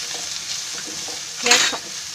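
Onion and carrot pieces stirred as they fry in a pan over high heat for a fenugreek seed vegetable dish, a soft steady sizzle with scraping strokes and a brief louder burst of stirring near the end.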